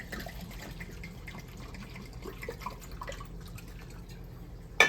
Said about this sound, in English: And fill the rest up with vodka.